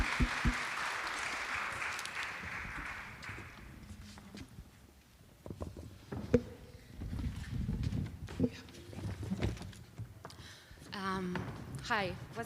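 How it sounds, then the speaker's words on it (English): Applause at a community arts festival at a chapel comes as a short burst early on. People talk and move around as a participant is called up, and scattered claps and footsteps follow. "a big applause for this"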